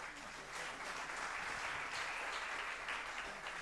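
A conference audience applauds in a dense, continuous patter of clapping from many hands that holds steady for several seconds, with faint voices underneath.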